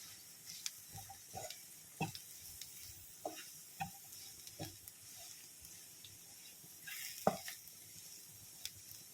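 Soft, steady sizzle of spice powders frying in oil for a lemon pickle, broken by faint scattered clicks and scrapes of stirring, fairly quiet throughout.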